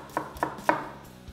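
A knife slices through a shallot on a cutting board in three crisp, close strokes a fraction of a second apart, then a softer fourth tap after a short pause.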